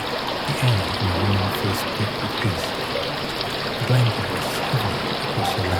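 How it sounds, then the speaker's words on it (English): Steady rain falls outside a rainy English cottage, a dense continuous patter and trickle heard close, with a soft voice speaking calmly over it throughout. "The sound of rain seems to stretch endlessly."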